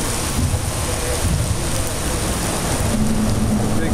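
Steady, dense hiss of heavy rain on a Florida cycling trail fills the scene, with faint voices in the background and a constant rushing wash throughout.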